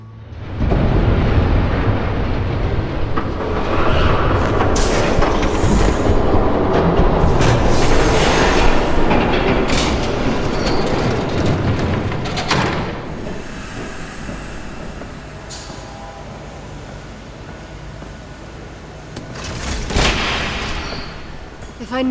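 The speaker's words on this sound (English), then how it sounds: "There's a train coming." A train rolls past in Batman: The Telltale Series, a loud, continuous rumble with hissing and rattling that swells, eases off and surges again near the end.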